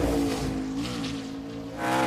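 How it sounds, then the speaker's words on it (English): Race car engine in Xfinity Series practice held against the rev limiter, a loud, steady high-pitched drone for about two seconds with slight surging at the start and end. "You could hear it in the rev limiter."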